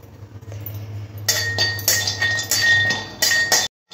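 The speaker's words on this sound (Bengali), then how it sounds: "এবারে প্রথমে আমি কড়ার মধ্যে কয়েকটি বাদাম ভেজে নেব শুকনো খোলায়" Peanuts dry roasting in a wok, bursts of rattling clinks and scraping as they are tossed and stirred against the metal, loud and close, stopping suddenly near the end.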